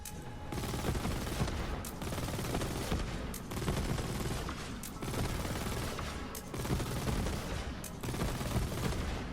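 Sustained automatic gunfire from the Flipper weapon in Borderlands 3, a dense, loud fusillade of rapid shots that keeps going without pause through the whole stretch, with brief breaks in the crackle roughly every couple of seconds.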